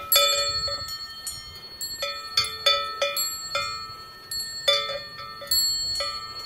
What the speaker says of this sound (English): It has three bells, you know, the cowbell, a telephone bell, and a school bell